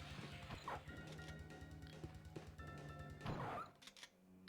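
A dog barks in the Sega Saturn version of Resident Evil, in a mansion room with skulls on display, amid dense game sound. A louder bark burst rises near the end.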